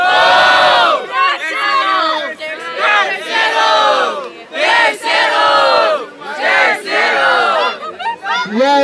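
A crowd at a rap battle shouts and cheers in repeated loud, rhythmic bursts with short pauses between them, close and energetic.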